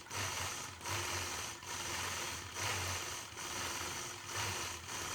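A sewing machine machine-quilts a quilt block with a steady fast motor whir and rapid needle chatter, running in bursts of about a second with brief pauses between, fairly quiet and with no voices.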